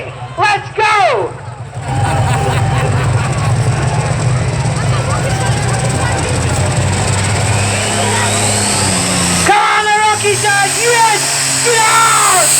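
Pulling tractor engine roaring at a Saturday night tractor pull, a loud sustained low drone building and shifting in pitch, with crowd chatter and an announcer's voice heard over it.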